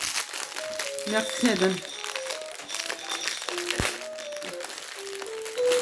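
Plastic packaging crinkles and crackles in close bursts as an item is opened, while people talk and electronic tones play throughout.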